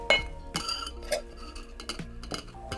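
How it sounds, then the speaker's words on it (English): A New Belgium beer glass being set out before pouring from a tap kit gives a few light clinks and taps spread across a couple of seconds, close by, with faint clinking and shifting in the quiet room. "We'll use my fancy New Belgium glass."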